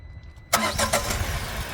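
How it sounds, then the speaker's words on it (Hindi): A one-year-old Tata Punch with 17,000 km on it starts up: after near silence, a sudden crank catches and settles into a steady, close idle. "अब करते हैं पंच का चालू"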